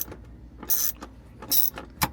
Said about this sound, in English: I'm just gonna take the screws off the bottom and just try to pry it out a little bit